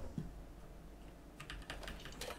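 Rapid, clattering keyboard presses from a PC player repeatedly hitting one key to loot in The Outer Worlds; a dense burst of clicks comes in the second half after a quieter start, close to the microphone.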